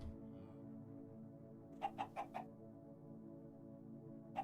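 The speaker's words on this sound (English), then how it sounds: "Spawn evil death chicken." Minecraft chicken clucks, four quick soft clucks in a row and one more near the end, faint over a steady droning game music bed.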